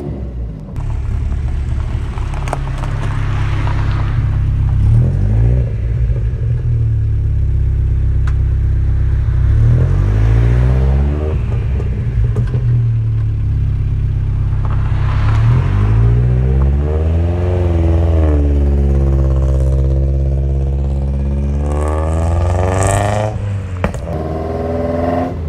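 A modified 1985 VW Golf GTI Mk2 engine revs loud and close as the car pulls away, a steady droning rumble with rising and falling pitch sweeps as it accelerates through gears, filling the cabin throughout.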